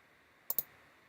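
Calculator keypad typing: two sharp, close button clicks in quick succession, faint against a quiet background.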